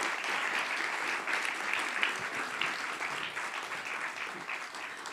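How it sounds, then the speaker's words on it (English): A conference audience at a school readiness panel applauds steadily for about five seconds. The clapping is a dense, even wash with no voices over it. "Can we have a big round of applause"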